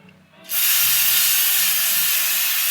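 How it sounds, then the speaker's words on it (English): A powder coating spray gun bursts on after a brief quiet moment, then hisses loudly and steadily for a couple of seconds. "let's give her a little bit of a spray here."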